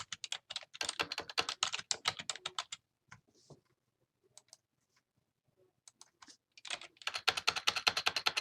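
Rapid keystrokes on a computer keyboard come in two dense bursts, separated by a near-silent pause with only a few scattered clicks, close and clear.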